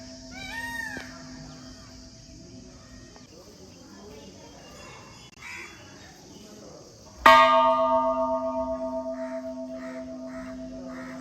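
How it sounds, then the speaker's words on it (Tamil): A large Hindu temple bell at Anuvavi Subramanya Temple is struck once after a stretch of crow cawing and outdoor ambience, ringing loud and close then decaying slowly over several seconds. "இப்போ வந்து அந்த கோயில் மணி அடிக்கணும்னு சொல்லி ரொம்ப ஆசை. ரொம்ப பெருசாக இருக்குங்களா."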